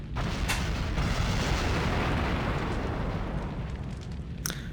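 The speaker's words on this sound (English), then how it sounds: "We've already have explosions." Explosions in the Onimusha: Warlords video game, a loud continuous roar of blasts and rumbling with sharper cracks at the start and end, alone without talk.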